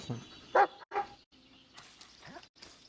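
A dog barks a few short, sharp times in the woods at night, fairly close, between quiet pauses with faint rustling.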